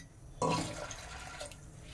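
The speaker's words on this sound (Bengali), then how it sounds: "পুরো ডালটা দিয়ে আমি এখানে চায়ের কাপের 2 কাপ জল দিয়ে দিচ্ছি।" Two cups of water pour into a pressure cooker holding soaked lentils, starting abruptly as a close, steady splashing gush that runs on to the end.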